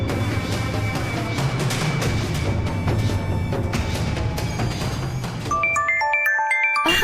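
A telephone rings in a domestic drama scene, a melodic ringtone of repeated bright tones that enters near the end over a loud background music bed.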